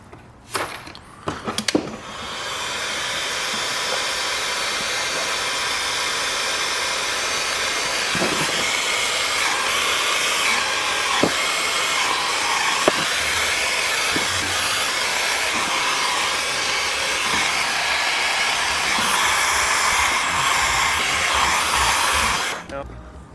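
A heat gun blows a steady, loud hiss of hot air while shrinking adhesive-lined heat shrink tubing onto a crimped custom battery cable, running continuously with a few faint clicks and handling noises.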